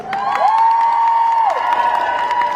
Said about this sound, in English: let's give our judges one more round of applause